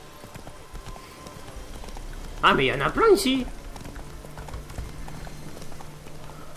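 Horse hooves clip-clopping in The Witcher 3 video game, a steady rhythmic patter heard under someone talking, with a brief louder burst of his voice midway.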